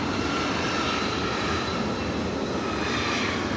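A jet airliner at LAX airport produces a continuous, loud, broad engine roar that holds steady throughout, with no talking over it.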